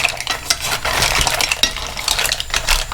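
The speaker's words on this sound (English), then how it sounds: "After the pepper we mix a little bit" Fresh Oosterschelde mussels being stirred with pepper in a pot, giving a close, continuous scraping and clattering of shells and utensil against metal, with faint sizzling underneath.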